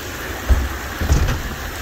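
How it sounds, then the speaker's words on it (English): Heavy pouring rain rushes steadily outdoors, with two deep low rumbles of thunder about half a second apart rising over the downpour. "It's pouring rain."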